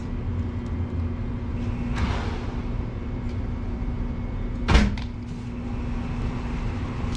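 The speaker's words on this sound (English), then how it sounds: "We are test firing right now." A Southbend gas range is test fired, giving a steady low burner hum with a faint tonal drone and one brief soft whoosh partway through.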